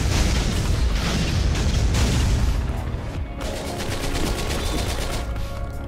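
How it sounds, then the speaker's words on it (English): Missiles and bombs going off in the action game Katana Zero, a dense continuous roar of blasts and rapid fire that thins into a steadier rattling crackle partway through, no talk. "We're gonna go ahead and bomb and leave so many of them."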